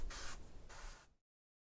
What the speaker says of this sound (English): we've got to then start spraying, and I'm not going to switch guns